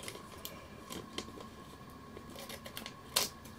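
Small scissors snip through a piece of candy in a few faint, sharp clicks, with one louder crisp snap near the end, in a quiet room with no talking.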